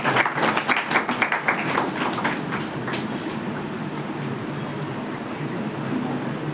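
An audience clapping during a medical lecture, a lively burst of many hands for a few seconds that thins into scattered claps and room noise.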